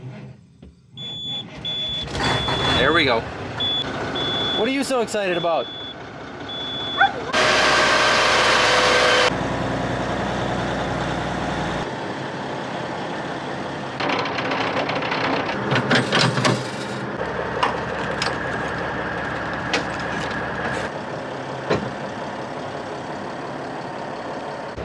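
An old farm truck engine cranks and fires, then settles into a rough idle with bursts of revving, close and loud, with a warning chime early on and a few brief spoken words.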